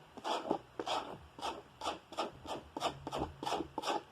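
Rhythmic rasping scrapes as gel is pulled from fresh aloe vera leaves, about eight short strokes repeating roughly every half second, close and fairly quiet with no talking.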